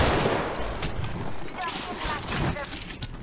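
Rapid gunfire bursts in a video game, loud and continuous across the moment with speech faintly mixed underneath.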